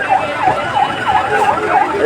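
A fire service vehicle's siren wails in rapid repeating up-down sweeps, loud and close as the crew arrives at the scene of a fallen live electric wire on a moving rickshaw, with voices faintly underneath.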